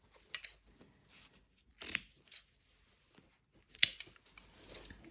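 Scissors snip through old denim, sounding as a few quiet, scattered crunching cuts with soft rustling of fabric between them, faint and close.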